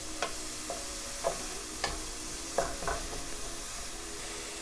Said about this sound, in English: Saute the carrot for another minute.